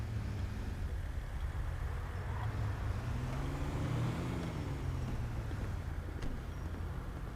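Cars drive along a highway in GTA 5. A steady low road rumble runs throughout, with one engine swelling and fading as it passes. The sound is fairly faint and no one speaks.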